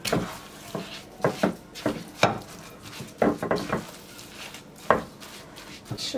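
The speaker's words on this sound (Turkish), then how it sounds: "Şöyle bir karıştırayım önce." Meatball (köfte) mixture is stirred in a bowl, giving a run of irregular clattering knocks and scrapes of utensil against the dish, close and fairly crisp, with no speech.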